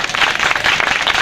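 A crowd applauds loudly at an annual farmers' union convention, a dense, continuous wash of many hands clapping together with no single claps standing out.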